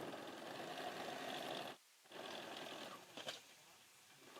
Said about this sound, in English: you're just going to turn and stitch across the end, and then we're going to go back the other way.